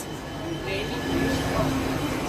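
An M7 double-deck train passes at a Belgian railway station, a loud steady rumble of wheels and rail noise with faint squeals, close by and continuous throughout.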